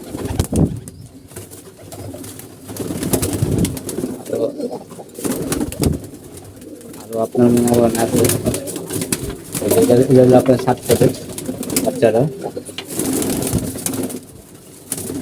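Pigeons kept at a building coo repeatedly close by, their low throaty calls rising and falling beneath someone talking throughout.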